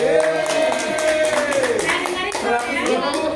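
An audience at a reading community gathering claps for a woman, light scattered handclaps running under a continuing voice that sings or speaks in a drawn-out tone, the clapping moderate and fairly near.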